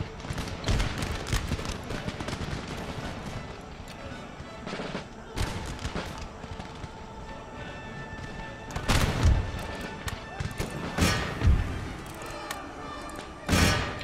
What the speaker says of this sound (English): Whoa there, cannons. Let's not shoot our guys in the back here.